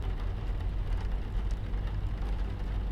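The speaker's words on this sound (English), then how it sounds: "It's a rainy night." Steady video-game rain on a night drive patters and hisses continuously, a dense wash of drops with a low rumble underneath and no voices.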